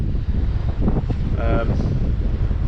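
Strong wind buffets the microphone on a sea fishing beach while mackerel fishing, a loud continuous rushing roar with gusty swells throughout.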